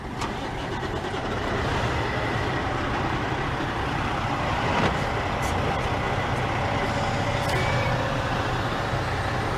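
A truck engine rumbles steadily as the vehicle pulls off in a California DMV driving test yard, a loud continuous idle and drive noise with faint beeps and brief hisses over it.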